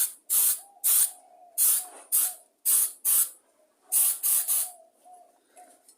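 Aerosol primer sprayed onto an old lawnmower engine block with cooling fins, in about ten crisp hissing bursts of varying length, each followed by a short pause, close and loud with no talking.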